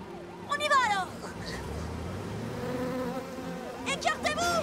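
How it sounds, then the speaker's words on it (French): A cartoon bee swarm buzzes in a wavering, steady drone, with animated characters calling out excitedly at the start and end of the stretch. "Un essaim d'abeilles nous suit!"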